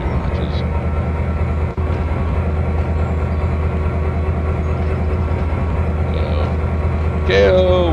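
A locomotive in the Trainz 2022 train simulator starts up and runs, giving a steady loud engine drone with rail rumble throughout and a brief higher tone near the end.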